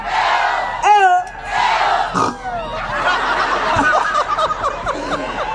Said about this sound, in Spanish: quiero escuchar a la gente gritar